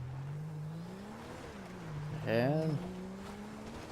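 Emergency vehicle in Grand Theft Auto V building speed from a short running start, a steady engine drone rising in pitch over a few seconds with a brief louder swell midway, while a person talks over it.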